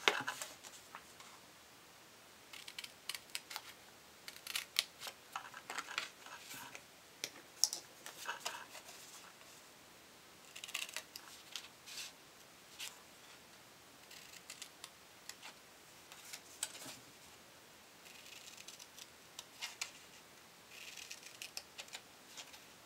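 Scissors snipping small pieces of paper for a handmade box, a long run of soft, irregular close-up snips and rustles, quiet throughout with no talking.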